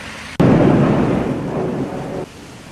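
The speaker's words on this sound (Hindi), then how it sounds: "और देखिए बारिश हो रही है" Heavy rain falls in Ranchi as a loud burst of thunder breaks in suddenly, then rumbles steadily for almost two seconds before dropping back to a quieter wash of rain.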